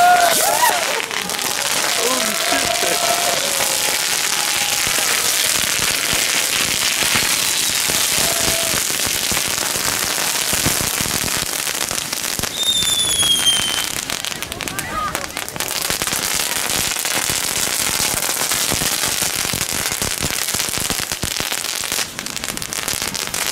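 Fireworks are set off in Enschede, with dense crackling and popping bursts that fill the whole stretch loudly and continuously, along with a few whistling streaks, while people shout and talk among the noise.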